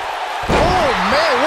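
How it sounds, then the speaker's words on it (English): A wrestler's leg drop thuds onto the ring mat with one sharp heavy slam, followed by a commentator's voice and crowd noise continuing underneath. "what a leg drop"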